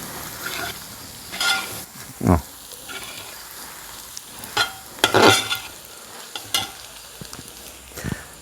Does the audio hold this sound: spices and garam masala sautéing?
yes